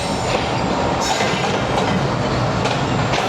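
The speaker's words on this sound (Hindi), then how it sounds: "और ये आ गई जनाब 7 अप तेज़ गाम।" The Tezgam 7 Up express train rolls into a junction station, a loud, close, continuous rumble of rail cars with rhythmic wheel clatter and faint squeals, no voices over it.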